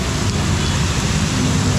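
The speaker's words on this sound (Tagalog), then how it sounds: "Patilahin ka na itong ulan." Heavy rain pours steadily and loudly in a continuous dense roar, with no voices over it.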